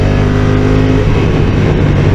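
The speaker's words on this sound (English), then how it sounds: "This is full throttle." A 2022 Honda NT1100 DCT motorcycle engine at full throttle, a loud, steady roar heard up close throughout.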